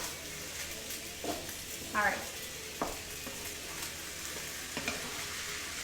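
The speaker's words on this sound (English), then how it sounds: "let me just stir it a second. It's actually making a lot of noise here." Food sizzles and fries in a pan while a utensil stirs it with scraping clinks, a steady hiss underneath; a voice speaks briefly.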